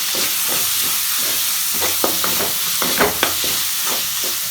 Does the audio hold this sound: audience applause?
no